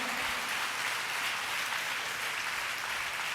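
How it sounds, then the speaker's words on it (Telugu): Worshippers in a church service clap hard in unison, producing a thick, continuous roar of hand claps that stays loud and even from start to finish. "గట్టిగా చప్పట్లు కొట్టాలి ఒకసారి"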